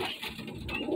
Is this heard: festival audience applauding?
no